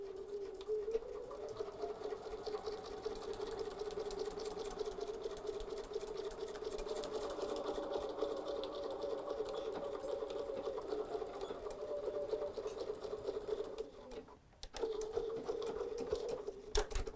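A sewing machine stitching a fabric bloom runs in a steady, fast, even whir for most of the stretch, pausing briefly near the end before starting again, close and fairly quiet with no talking.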